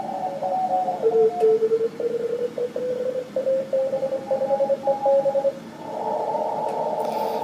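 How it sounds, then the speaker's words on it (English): An amateur radio DX pileup on the shortwave bands: many stations call at once as overlapping, keyed tones that stop and start in a busy, steady jumble, with a continuous band of noise returning at the end. "Now that has to be a DX pileup of some kind."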